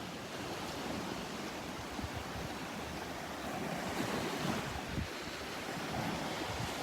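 Ocean waves wash steadily onto a Florida beach at Delnor-Wiggins under a light north breeze. The surf is calmer than before and the water is still churned up, with a continuous, fairly close rumble and some wind buffeting the microphone.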